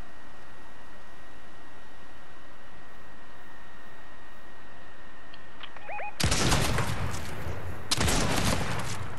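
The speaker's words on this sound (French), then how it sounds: "Ça tire à toi, très gaffe." Gunfire in Fortnite: after a quiet stretch of ambient noise, two loud, broadband bursts of shots erupt close by, the second following shortly after the first.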